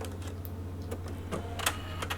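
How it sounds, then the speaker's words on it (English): A sewing machine back tacking at the end of a seam on a French seam: a quiet, steady motor hum with light, rapid mechanical clicks and ticks, with no one speaking. "And we'll just back tack at the end there"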